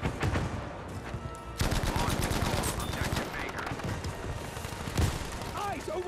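Heavy gunfire in the World War II shooter Battlefield V, dense bursts of rifle and machine-gun shots crackling close and loud throughout, with a louder burst near the end.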